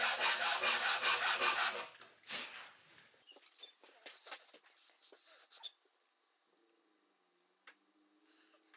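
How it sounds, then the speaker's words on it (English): A handmade manual file rasping across a wooden workbench leg vise part, a fast run of rhythmic strokes at first, then scattered lighter scrapes and taps trailing off into quiet. "Those handmade files are top class."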